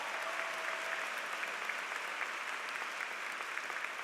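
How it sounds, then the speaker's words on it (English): Applause from a university commencement audience, a sustained even roar of many hands clapping, moderately distant and steady throughout with no talk over it. "Give her a round of applause, please."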